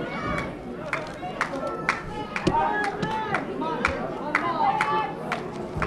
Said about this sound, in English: the crowd yelling something obscene